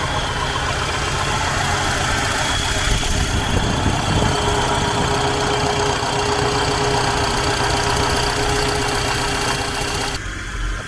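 Truck engine idling steadily after an adjustment, a close, loud, constant rumble with a slight knock, running on its own without talk.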